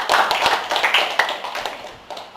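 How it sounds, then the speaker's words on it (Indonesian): Audience applause for a questioner at an Indonesian public discussion, a steady patter of many hands clapping close by that fades toward the end, with no talking over it. "sekali lagi tepuk tangan untuk yang tanya"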